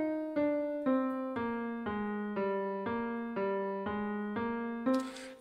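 An inverted melodic line from a composition plays as about ten evenly spaced, sustained tones, each note ringing and fading slightly before the next, clear and alone without talk.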